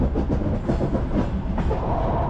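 Sleeper train rolling on the rails between Kazakhstan and Kyrgyzstan after leaving Shu, a steady, loud clickety-clack of wheels over rail joints with a continuous low rumble of the carriage, no talk.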